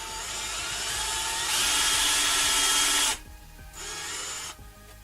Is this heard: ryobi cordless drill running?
yes